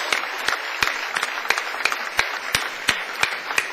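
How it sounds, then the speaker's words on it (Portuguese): Church congregation clapping in unison in praise, sharp regular claps spaced about every third of a second with a softer layer of scattered hands between them, close and fairly loud, with no talk. "Vamos aplaudir ao Senhor, podem voltar aos seus lugares"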